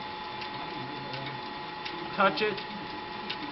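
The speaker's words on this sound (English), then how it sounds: "turn off the lathe" A lathe runs steadily in a workshop, freshly cleared of old chips, giving a continuous mechanical drone with a faint ticking rhythm; a voice speaks briefly over it.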